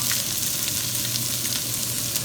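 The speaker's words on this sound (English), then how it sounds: "keep your eye on that while it's sauteing away" Peppers, onion and roasted garlic sauteing in a hot pan give off a dense, steady bright sizzle with small crackles, close and continuous, with no one speaking.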